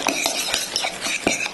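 Guacamole with lime juice being stirred in a bowl, with quick, close, irregular clinks and wet scrapes of a utensil.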